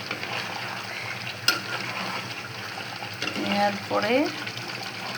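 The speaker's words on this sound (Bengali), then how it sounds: "কিন্তু মাংসটা এখন কষায় নিচ্ছি" Beef browning in a pan on a home stove, a soft continuous sizzle with occasional scraping stirs and clinks, close by, while someone speaks briefly over it.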